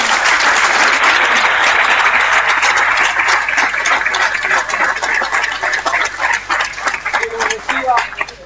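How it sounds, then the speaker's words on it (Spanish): Loud, full audience applause at an agricultural biosolutions talk, sustained clapping that slowly thins into scattered claps near the end, with voices coming through underneath. "Ese es el aplauso que te mandaron."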